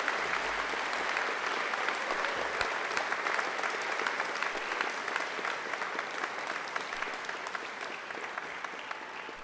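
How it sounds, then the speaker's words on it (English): Graduates at a Macquarie University graduation ceremony applaud their families and friends, a dense, steady wash of clapping from a large hall crowd that holds evenly throughout with no talking. "now I invite you to give them a mighty round of applause"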